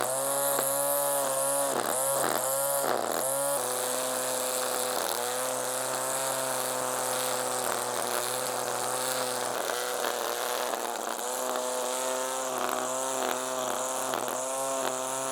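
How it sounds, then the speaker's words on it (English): A loud motorized edge trimmer runs continuously while cutting lawn edges during a lawn renovation, a close, sustained high-pitched engine whine with brief dips in pitch early on as the cutter bites into the grass. "let's just quickly just trim the edges first"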